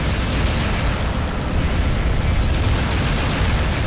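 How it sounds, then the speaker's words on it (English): Dense, roaring bursts of cannon blasts from the queen bee boss's defense weapons in Armored Core 2: Another Age fill the mix with continuous loud rumbling noise and no clear pauses. "Yeah, her defense cannons hit like a truck."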